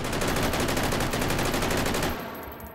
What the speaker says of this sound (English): I kind of hesitated using it as a machine pistol. The Bren 806.